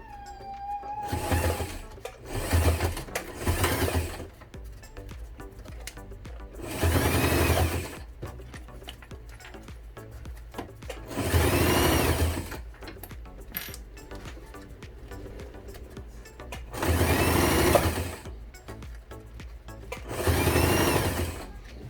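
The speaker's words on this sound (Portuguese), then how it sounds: "começa agora a fazer a costura em cima do vinco do viés" A sewing machine stitches along the fold of bias binding on a waterproof piece, running in about six separate whirring bursts with short pauses between them, close and clear with no talking.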